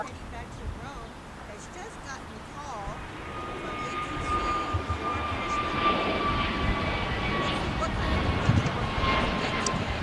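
An airliner departs from an LAX runway, its engine roar building into a steady, broad rumble from a distance, while someone talks over it at times.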